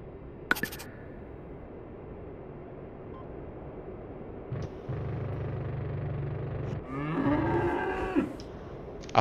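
Cattle mooing in the DCS combat flight game during a Saab Viggen low pass, a drawn-out moo rising over a faint low rumble, with a shorter lowing sound just before.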